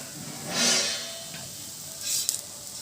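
Oil hisses and sizzles in a hot pan under a multigrain adai dosa, rising in two short bursts between quieter stretches of faint crackle.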